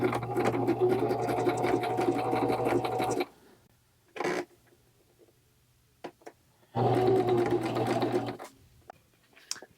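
A sewing machine test-stitches on a scrap of fused fabric in two loud steady runs of rapid mechanical whirring, separated by a quiet pause with a couple of brief clicks.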